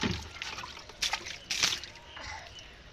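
Water poured from a bucket over a small child bathing at a tube well, two splashing gushes that stand out from a low trickle and drip, with faint voices in the background.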